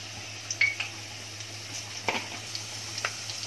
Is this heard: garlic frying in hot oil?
yes